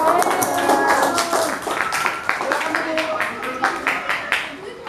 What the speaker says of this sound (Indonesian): Oke, kasih tepuk tangan buat kelompok 3.